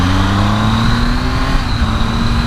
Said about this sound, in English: when you hit the shift just right, it's absolutely seamless